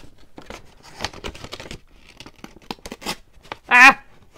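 A knife slicing open a paper evidence envelope for a crime-themed junk journal: soft rustling and scraping, then one loud, sharp tearing rip near the end.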